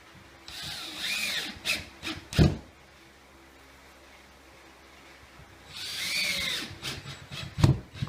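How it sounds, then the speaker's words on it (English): A power drill drives 1¼ inch drywall screws through drywall into furring strips. Two short whirring bursts each end with a sharp thunk as the screw seats, separated by a quiet pause. "Now attach the drywall to the furring strips using the 1¼ inch drywall screws."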